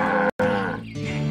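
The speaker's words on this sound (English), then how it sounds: "This is the farm of the dead cows because the eagles have been attacking their cows." Cattle on a farm in the Black Desert video game, a single loud, drawn-out moo with a brief cut near the start, heard alone.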